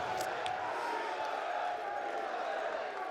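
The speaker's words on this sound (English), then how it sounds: "Very excited crowd here." Excited crowd filling a London CS:GO esports venue during the ESL Pro League Season 3 Finals semifinals, a steady dense roar of many voices with a few sharp peaks, loud and continuous throughout.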